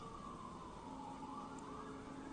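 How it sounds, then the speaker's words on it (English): Distant sheriff's car sirens wail faintly at 3 AM during a motorcycle chase, their tones slowly rising and falling over a low background hum. "more sirens."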